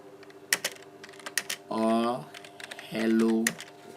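Typing on a computer keyboard, with scattered light key clicks and taps running under two short stretches of talk.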